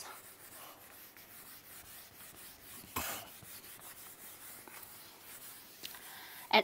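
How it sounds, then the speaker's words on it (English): Continuous soft rubbing as writing is wiped off a classroom board, a steady scratchy swish lasting several seconds, with a brief bump midway and a small knock at the end. "I'm going to rub this."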